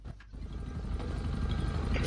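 A steady video game helicopter rotor drone fills the clip, building slightly louder toward the end, with no voices over it.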